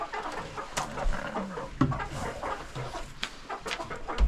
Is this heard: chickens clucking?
yes